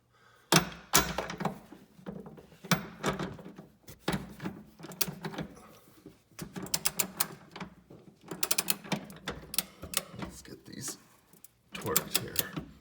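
A torque wrench tightens small bolts on Mopar off-road running boards on a 2021 RAM Rebel 1500, making repeated sharp clicks and ratcheting thunks in uneven clusters. Someone speaks between them.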